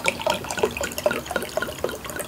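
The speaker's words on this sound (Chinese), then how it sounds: "请帮我倒水。" Premium bottled mineral water is poured into a glass, giving a bright, gurgling run of bubbly plops and splashes, fairly close and steady, with no voices over it.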